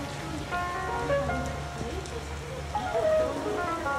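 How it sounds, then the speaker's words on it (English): Heavy rain pours steadily onto surfaces outdoors, a dense, continuous patter heard close by, with some faint tonal sounds in the background. "It's raining like crazy."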